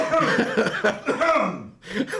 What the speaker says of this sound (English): Someone's coughing in the background.